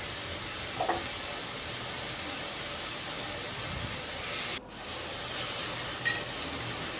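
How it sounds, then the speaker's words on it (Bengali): Prawns frying with onion in a pan, a steady soft sizzle close by with a few light stirring clinks, no talking. "চিংড়ি মাছটা একটু পেঁয়াজের সাথে ভেজে নিব।"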